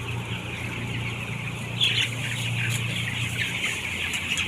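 A large chicken clucking nearby, a run of sharp clucks in the middle over a steady low hum of background noise.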